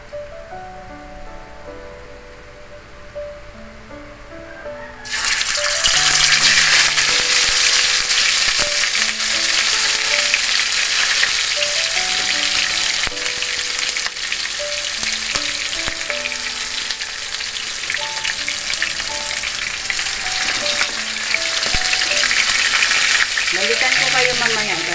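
Loud, steady sizzling of tanigue fish frying in hot oil in a pan starts abruptly and continues without break, with soft clinks and faint background music underneath.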